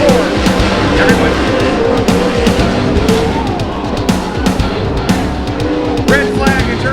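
Race cars roaring through turns 3 and 4 in a webcast race, a loud dense engine rumble with revving and tire squeal close by, under a voice talking.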